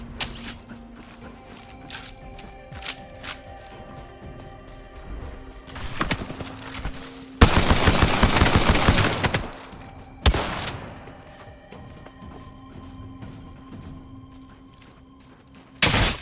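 Enemy gunfire in a video game arrives in loud bursts, a long sustained volley in the middle and a shorter one after, between quieter stretches of clatter and thumps.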